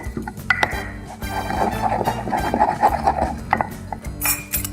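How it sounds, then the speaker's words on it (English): About a teaspoon of crushed black pepper is ground coarsely in a mortar and pestle, making close, rhythmic crunching and scraping with clicking knocks of the pestle against the bowl. "I'm going to put that in my mortar and pestle."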